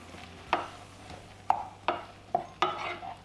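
Broccoli with coconut aminos being stirred in a pan, five or six separate scraping, clattering strokes a fraction of a second apart over a faint low hum, close by with no talking.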